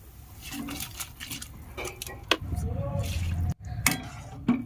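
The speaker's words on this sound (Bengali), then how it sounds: "এইভাবে আমি একটি স্ট্যানারের মাধ্যমে জলটা ছেঁকে নিচ্ছি।" Water poured off soaked rice through a strainer, splashing and trickling with a few clinks of a metal pot and utensil, close by, under a faint voice in the background.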